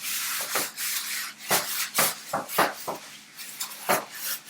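Butter rubbed around a baking tin with repeated short scraping, smearing strokes, close and fairly clear, with no talk over them.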